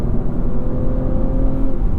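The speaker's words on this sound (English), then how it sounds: "it just downshifted for me right there in manual mode as well" A 2024 Audi S4 engine running with the transmission in manual mode during a downshift, heard as a loud, close, steady mechanical drone and hum with no one talking.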